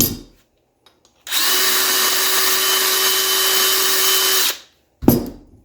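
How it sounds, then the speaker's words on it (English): A rotary burr bit grinding metal from a U-joint bore, one steady high whining power-tool run of about three seconds, close and loud, with a brief clatter just after it stops. "If you're using a burr bit, it will remove material fast."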